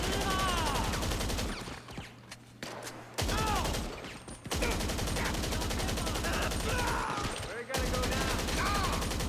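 Rapid automatic gunfire from a magazine being emptied in GTA 5 Online, loud dense bursts with brief pauses between strings of shots, close and continuous over most of the stretch.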